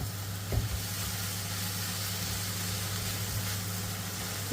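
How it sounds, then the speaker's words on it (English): Beef madras frying in a pan, a steady loud sizzle with a few faint scrapes as it is stirred. "So I'm going to give this a mix now."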